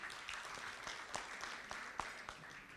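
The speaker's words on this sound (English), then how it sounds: "Okay, so let's just clap for her." Audience at an award ceremony claps, a soft and fairly distant spread of hand claps with a few sharper individual claps standing out, no voices over it.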